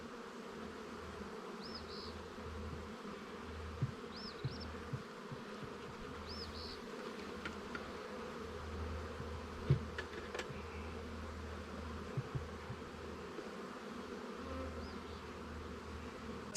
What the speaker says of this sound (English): It's a pretty nice box of bees